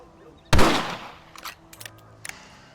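A rifle in the Red Dead Redemption video game fires a single loud, sharp close shot, followed by a decaying echo and a few fainter clicks and rattles.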